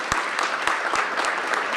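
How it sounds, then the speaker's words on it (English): An audience applauds at an outdoor groundbreaking ceremony, a brief stretch of scattered, moderately distant clapping with a few sharper claps standing out. "Give her a big round of applause."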